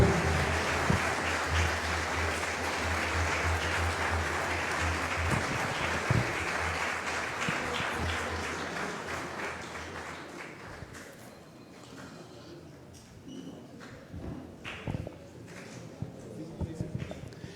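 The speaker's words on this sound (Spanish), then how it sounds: "Un fuerte aplauso para ellos, por favor." An audience at a conference in Guatemala claps in a dense, sustained round of applause that gradually thins into scattered claps, with talk coming in toward the end.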